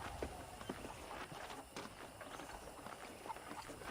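Horse hooves clip-clop in the Western video game Red Dead Redemption, a faint, steady trotting rhythm under quiet ambient noise.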